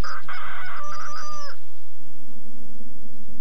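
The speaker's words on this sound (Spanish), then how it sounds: "crían vacas por la leche, gallinas por los huevos" A rooster on a farm crows loud and close for about a second and a half, then only a low, steady background hum remains.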